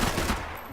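A gunshot blast in the video game Max Payne 3, a short loud burst that fills the whole clip and tails off slightly toward the end, with no talking over it.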